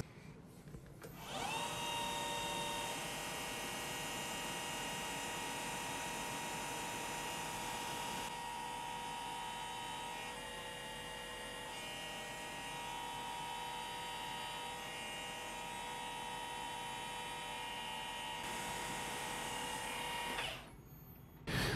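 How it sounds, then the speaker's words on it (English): A lathe bores relatively deep holes in small stainless steel parts with a solid carbide boring bar, giving a steady close machine whine and hum with faint tonal ringing that runs unbroken for about twenty seconds before stopping. "now I'm using the same Goering solid carbide boring bar that I used before to cut those relatively deep holes"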